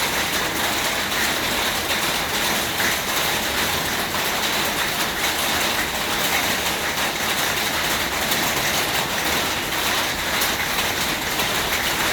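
Steady rain falls over a quiet setting, a dense even hiss of drops on surfaces that stays constant and fairly close with no voices.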